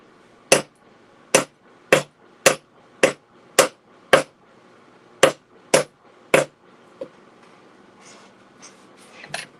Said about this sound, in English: and I'm going to hammer this.